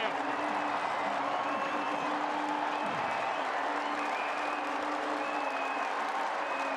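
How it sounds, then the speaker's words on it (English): Crowd at Kensington Oval applauding a century in a Windies vs England one-day international, a sustained wash of clapping from the stands with faint cheering, while a commentator talks over it. "Kensington Oval stands and applauds."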